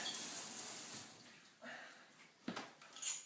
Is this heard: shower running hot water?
yes